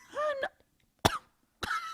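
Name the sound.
cough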